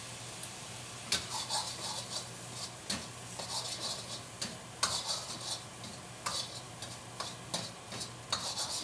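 Soy sauce sizzles in a hot pan of fried rice with beef, a fairly quiet steady fizz marked by frequent sharp scrapes and taps of a spatula against the pan, heard close up and without speech.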